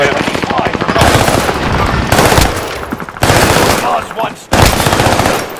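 Automatic machine-gun fire rips out in several loud, close bursts with short pauses between them during a Call of Duty Warzone match, while a voice briefly speaks over it.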